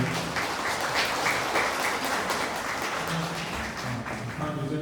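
Wedding guests in a Yeongdeungpo convention wedding hall break into sustained, moderately loud applause from many hands, welcoming a congratulatory song; a voice begins speaking faintly near the end as the clapping continues.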